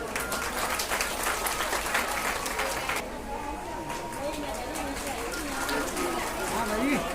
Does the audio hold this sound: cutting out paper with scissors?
no